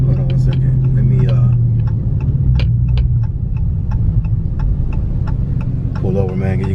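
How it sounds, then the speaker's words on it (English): A truck rumbles by with a low throbbing engine drone, close and loud, while someone talks over it throughout. "you got a truck that's going by me"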